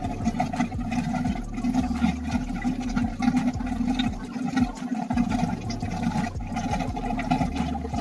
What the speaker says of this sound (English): the water's now coming out